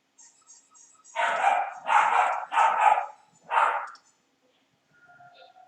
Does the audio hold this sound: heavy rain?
no